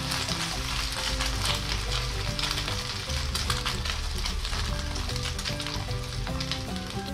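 Tilapia frying in hot oil in a pan, a dense, steady sizzle filling the whole stretch with crackling pops, loud and close, no voices.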